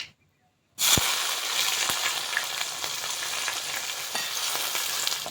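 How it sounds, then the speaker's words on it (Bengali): Chopped onions fry in hot oil with cardamom, cinnamon, dried red chilies, bay leaf, cloves and asafoetida, a loud, steady close-up sizzle that starts suddenly after a brief silence and carries on with small pops and stirring noises. "পেঁয়াজটা ভাজা হয়ে গেছে"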